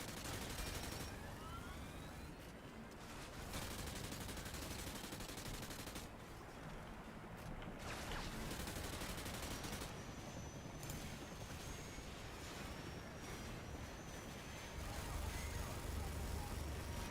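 Triple sentry guns firing in a video game, a dense continuous rattle of automatic fire that runs for the whole stretch, loud and busy, with faint siren-like tones and game noise layered over it.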